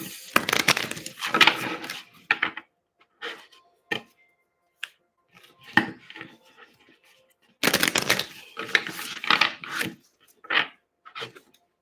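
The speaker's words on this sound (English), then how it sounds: "give this a couple of shuffles." Tarot cards being shuffled in several bursts of crisp riffling and rustling, close and fairly loud, with quiet pauses between bursts.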